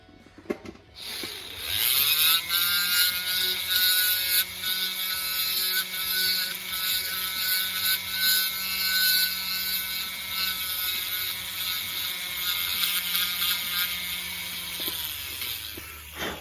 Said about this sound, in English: Get that cleaned up with a ball burr.